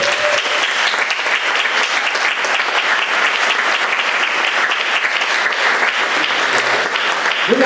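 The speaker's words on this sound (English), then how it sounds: "They all deserve a big round of applause." A school jazz concert audience claps loudly and steadily for the whole stretch, a dense even roar of applause close to the listener with no break.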